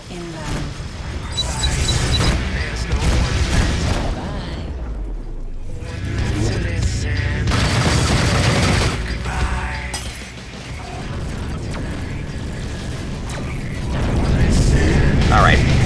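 Weapons fire and explosions from the space combat game Rebel Galaxy Outlaw as a missile closes in: loud crashing booms, metallic mechanical clatter and shattering bursts layered densely, with a voice speaking over the action.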